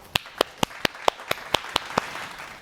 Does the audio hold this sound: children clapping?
yes